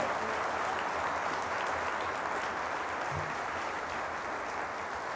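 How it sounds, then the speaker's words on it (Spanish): A church congregation claps for the word of God during a Catholic service, a continuous, even wash of applause from a large crowd, steady and moderately distant throughout. "Fuertes aplausos a la palabra del Señor."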